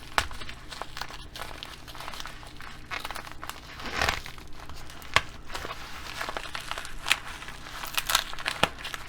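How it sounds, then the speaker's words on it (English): A plastic shipping package for silver bullion rounds is ripped and crinkled open with continuous crumpling, rustling and tearing noises, close and fairly loud, with no talking. "It breaks right here, so we're just going to rip this part here."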